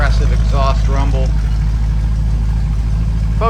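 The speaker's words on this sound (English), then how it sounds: "Nice aggressive exhaust rumble." A 1936 Ford four-door slant-back sedan idles with a steady, low, aggressive exhaust rumble that runs throughout. Someone talks over it briefly at the start.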